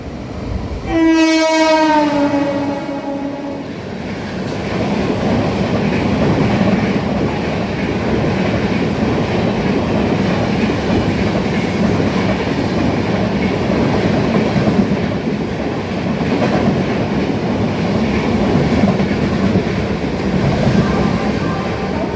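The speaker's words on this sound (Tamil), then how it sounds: "இந்த ட்ரெயின் வந்து சென்னை, ஆந்திரா, ஒடிசா இந்த 3 ஸ்டேட்டை கவர் பண்ணுது இந்த சென்னை சென்ட்ரல் புவனேஸ்வர் எக்ஸ்பிரஸ்" Chennai Central to Bhubaneswar weekly superfast express sounds a loud, wavering horn blast in the opening seconds, then rolls past close by with a steady, heavy rumble of wheels and carriages that fills the rest of the clip.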